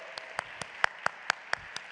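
Sparse, scattered handclaps from an audience at a community forum, a few distinct claps spaced through a brief moment, faint and thin rather than a full ovation.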